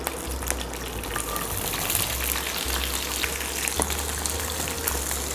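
Curry leaves and about 150 grams of shallots fry in hot oil for a Chettinad chicken dish, giving a steady, close crackling sizzle with occasional stirring scrapes over a low hum.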